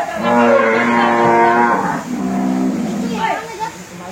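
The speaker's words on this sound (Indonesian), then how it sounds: "ini sapi limosin" Limousin cattle at a livestock farm give a long, loud, close moo followed by a second lowing call, with a faint voice at the end.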